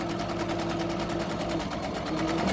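A sewing machine stitches a surgical skull cap in a rapid, even, continuous chatter, close and steady throughout.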